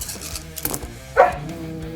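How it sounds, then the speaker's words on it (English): A dog gives one short bark near the middle, partly masked by background noise and low droning sound. "Even the dogs are mad about it."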